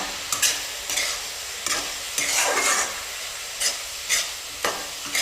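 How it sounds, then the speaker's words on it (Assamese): Cumin and red chilli powder sizzle in a pan for an Assamese-style mutton curry as a spoon stirs and scrapes in repeated short strokes, about seven or eight scrapes over a soft frying hiss. "অকণমান লৰাই দিম।"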